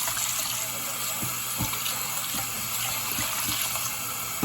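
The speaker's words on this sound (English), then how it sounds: "Cleaning the rice." Tap water runs steadily into a pot while rice is rinsed by hand for Cajun oxtails and white rice, a constant splashing gush with a few soft knocks and sloshes underneath.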